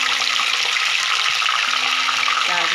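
Whole spices with asafoetida, dry chillies, garlic and lemon leaves frying in hot oil for a mango ginger pickle, a loud steady sizzle that fills the whole clip, with a faint hum running through it.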